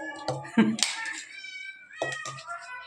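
Cats meow several times in short, close, clear calls, with a pause between two bursts.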